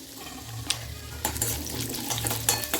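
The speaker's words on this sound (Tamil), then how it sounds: "கடாய் வச்சு அதில் 2 ஸ்பூன் ஆயில் சேர்த்துருக்கேன். நம்ம வந்து தாளிக்கிறத சேர்த்துக்குவோம்." Cumin seeds sizzle and crackle in hot oil in a kadai, a close frying hiss that grows louder partway through, with a low hum running underneath.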